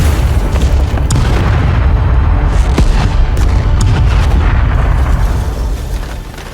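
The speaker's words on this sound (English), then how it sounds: "Wait, is that a bomb?" In the video game Broken Sword: Shadow of the Templars, a bomb goes off in a loud, sustained blast, with deep rumbling and crackling debris bursts that continue throughout before slowly easing toward the end.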